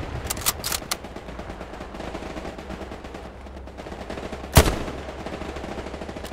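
Gunfire in the Hell Let Loose war game, a few sharp shots early on, then one loud close rifle crack near the end, with a low rumble of battle throughout.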